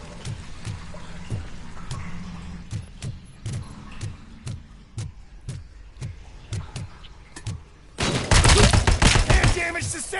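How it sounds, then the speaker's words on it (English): OCP turrets firing in RoboCop: Rogue City, a steady train of sharp, evenly spaced shots over a low pulsing hum, then a loud burst of dense noise near the end. "Uh-oh, OCP turrets."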